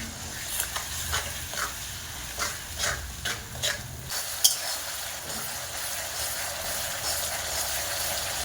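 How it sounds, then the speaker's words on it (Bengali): A mustard, turmeric, ginger and garlic spice paste being fried and stirred in a pan with a little water, giving a steady sizzle and hiss with repeated scraping stirs and a sharp clink midway. "অল্প করে জল দিয়ে মশলাকে কষে নেব"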